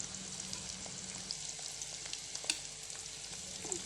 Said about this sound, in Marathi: एक एक करून जे कारले आपण भरलेली आहेत ती कढईमध्ये टाकून